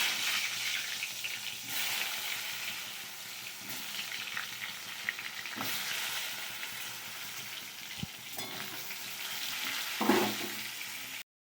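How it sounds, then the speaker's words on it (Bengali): Eggplant coated in salt and turmeric fries in a kadai with a continuous hiss of bubbling oil. Occasional soft clinks and stirring noises rise over the sizzle. "কড়াকে ভাজার জন্য ছেড়ে দিচ্ছি।"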